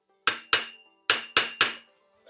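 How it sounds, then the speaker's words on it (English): Hammer strikes on a flathead screwdriver knocking a bearing cup out of a BMX bike's crank shell during a 3-piece crankset upgrade; five sharp metallic clanks, two then three, close and alone. "you get a flathead screwdriver and a hammer"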